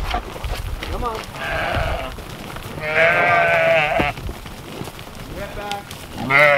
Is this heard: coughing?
no